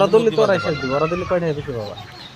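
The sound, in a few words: chickens clucking at a poultry farm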